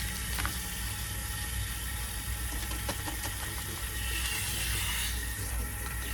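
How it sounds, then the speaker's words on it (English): Water runs through hair as conditioner is rinsed out by hand, a steady close hiss of flowing water with a few light splashes. "you wanna make sure that you rinse out all the conditioner"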